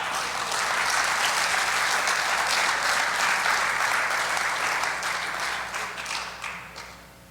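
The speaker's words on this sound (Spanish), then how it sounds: "Dale un aplauso al Señor." A church congregation applauding, a dense, even wash of many hands clapping that holds steady and then fades out toward the end.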